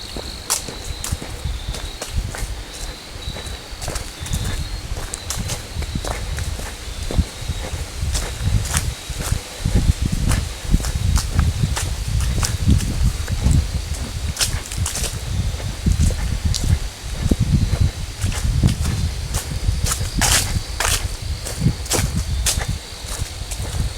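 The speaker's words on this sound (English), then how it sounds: "The leaves rustling under your feet." Footsteps crunch and rustle through fallen autumn leaves on a wooded trail at Battelle Darby Creek, a steady walking rhythm of crisp, close leaf crackling that continues throughout.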